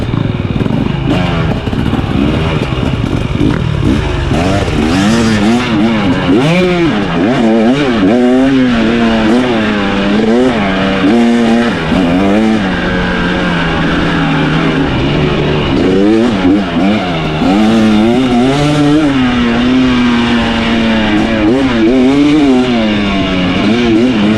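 A 2023 KTM 300XC TBI two-stroke dirt bike ridden on a trail at Crow Canyon, its engine loud and close throughout, rising and falling in constant revving sweeps as the rider works the throttle.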